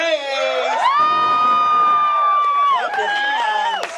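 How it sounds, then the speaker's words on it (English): A drag show crowd cheers loudly with whoops and high shouts, a sustained excited roar filling the room, while a strong voice rises above it throughout. "Ladies and gentlemen, put your hands together for my friend"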